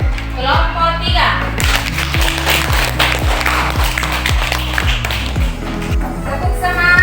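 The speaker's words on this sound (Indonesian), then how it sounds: "Ya, tepuk tangan untuk kelompok 3." A classroom of students applauds for group 3, steady rhythmic claps and scattered hand-claps ringing out close by, with a brief voice at the start before the clapping swells.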